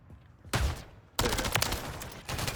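Call of Duty MW3 gunfire sounds in two loud, close bursts of rapid automatic shots, the second burst longer, with a brief quieter gap between them and no talk.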